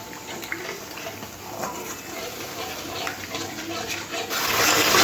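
Water is poured into a cooking pan over ground spices while making doi fulkopi, a yogurt cauliflower curry, giving a steady watery splashing and gushing that swells louder near the end.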